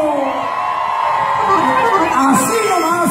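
A large crowd at a live show in San Pedro, Coahuila, honoring Los Dos Carnales shouts, whoops and cheers loudly and continuously. A voice yells over the roar.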